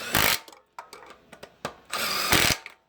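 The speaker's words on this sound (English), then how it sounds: "You'll also notice I'm impacting them in." Impact driver running in reused head bolts on a 6.0 LQ4 engine longblock, two loud sustained rattling bursts with shorter clicks and taps between them.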